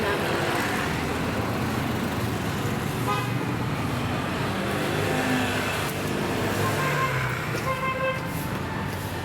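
Continuous roar of passing cars on a highway beside a walking route, with a horn toot, heard close and loud throughout.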